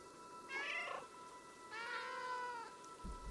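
A cat in the Stray video game gives two clear, drawn-out meows, fairly close and alone, with a brief pause between them and a soft low thump at the end.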